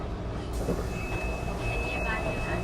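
A metro train runs with a continuous loud rumble and steady high whine, heard from inside the car. Voices murmur faintly underneath.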